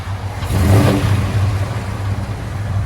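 A 1985 Chevy K5 Blazer V8 revs up once and settles into a throaty, rumbling idle through true dual exhaust with Flowmaster Super 10 mufflers, loud and close.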